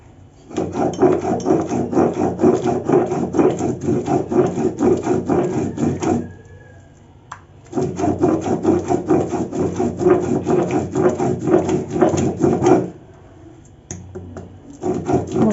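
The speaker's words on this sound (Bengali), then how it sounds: "এখন সর্ষে ধুয়ে ভালো করে বেটে নেবো" Washed black and white mustard seeds ground by hand into a fine paste: close, loud, rhythmic rasping strokes in two long bouts separated by brief pauses, then a third bout starting.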